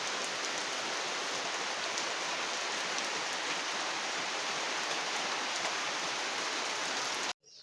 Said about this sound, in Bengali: তো বৃষ্টি তো শুরু হলো, দেখা যাক কখন থামে।